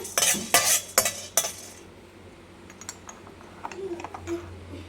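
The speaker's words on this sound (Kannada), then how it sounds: "ಮೆಣಸನ್ನ ಲೋ ಫ್ಲೇಮಲ್ಲೇ ಇದನ್ನು ಹುರ್ಕೋಬೇಕಾಗುತ್ತೆ" Black peppercorns dry-roasted on low flame in a pan give a burst of sharp, close scraping clatters from a stirring spoon, then sparse, softer rattles and ticks.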